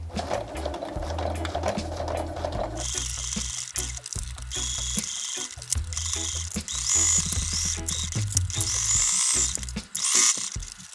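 A sewing machine runs a basting stitch along the edge of fabric layers for menstrual underwear. It whirs in rapid mechanical bursts with brief pauses and carries on alone for most of the stretch.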